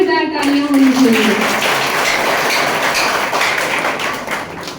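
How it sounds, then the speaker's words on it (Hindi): Loud applause from an audience at a musical program for autistic children, starting right after a spoken line and continuing as dense, steady clapping. "नाम के लिए जोरदार तालियां होनी चाहिए"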